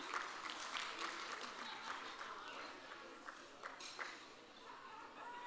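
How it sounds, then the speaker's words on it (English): Applause from a celebration-event audience, moderately dense clapping with scattered sharper claps that gradually thins toward the end, heard at a distance and fairly quiet. "Please, a round of applause for yourselves."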